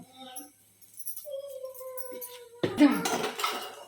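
Someone stirs khichdi with potatoes in a cooking pot: a spoon scrapes and clatters against the metal in a burst near the end, after a quieter lead-in with faint tonal background sound.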